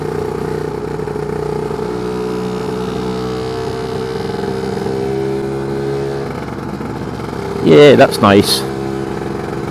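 A Lambretta scooter fitted with a BGM PRO MZ30 exhaust labours at low revs without a gear change, a steady droning engine note with a brief louder rise near the end as a voice speaks over it.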